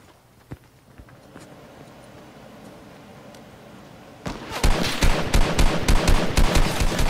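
Rapid bursts of gunfire erupt in a video game shootout, loud and close, starting partway through after a quieter stretch of faint distant shots and footsteps.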